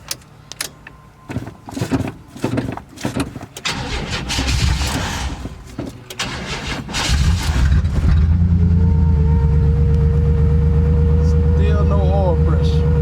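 An old Chevy OBS truck engine cranks with some gas given, starting after several seconds of uneven cranking and scraping noises, then settling into a loud, steady idle close by, with voices talking over the start.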